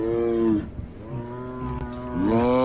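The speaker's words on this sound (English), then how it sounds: "Are you mooing because you want to be one with the cows?" A tiger giving low, cow-like mooing calls, two drawn-out calls framing a rougher, quieter stretch, fairly close and without talk.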